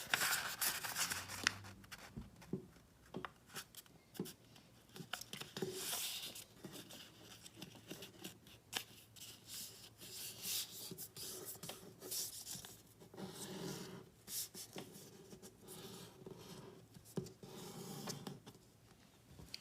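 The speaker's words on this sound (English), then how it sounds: "Now fold it in half." Origami paper being folded in half for a floating canoe, a run of soft, close crinkles, rubs and taps of paper handling that repeat irregularly and quietly throughout, with no talking.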